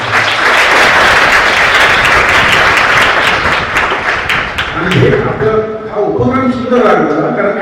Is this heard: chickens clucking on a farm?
no